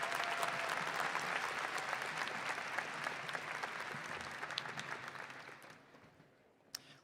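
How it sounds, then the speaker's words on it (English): A graduation audience applauds the Master of Medical Management students, a full dense round of clapping that gradually thins and dies away near the end. "Please join me in a round of applause for the Master of Medical Management students."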